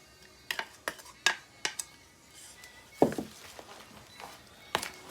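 Mac and cheese ingredients being mixed in a pan: sharp utensil clicks and scrapes come in an irregular series of separate taps, fairly quiet, with no talking.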